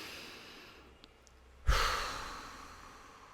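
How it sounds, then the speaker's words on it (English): A single deep breath, a quiet inhale followed by a sudden, fuller exhale that trails off softly, close and alone with no talking. "And if you just take a deep breath right now,"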